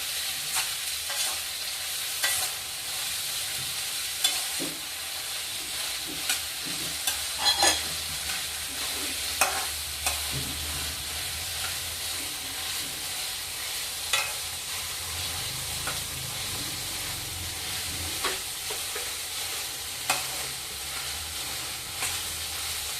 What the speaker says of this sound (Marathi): एक बाउल शिमला मिर्ची टाकली है दोन मिनट परतवायची शिमला मिरची